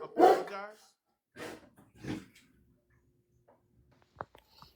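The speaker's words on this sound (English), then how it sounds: "I couldn't hear you over the dog barking." A dog barks a few times indoors, a loud close burst followed by a couple of quieter barks with gaps between, and a sharp tap near the end.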